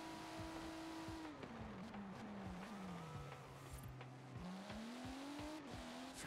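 A race car in Forza Horizon 4 online team racing drones under steady engine load, with pitch rising and dropping through gear shifts. Faint tire noise runs beneath the continuous motor.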